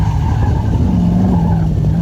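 An SCCA autocross race car in Sacramento makes a run through the course. Its engine drones loud and close, and tires squeal and skid steadily through the turns.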